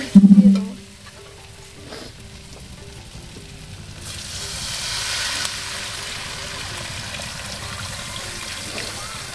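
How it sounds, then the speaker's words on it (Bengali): Potatoes frying with spices in oil in a pot over a village clay stove, a steady soft sizzle that swells louder partway through, with a brief clatter at the start. "আলুর সাথে মশলা ভালো করে কষা হয়ে গেছে"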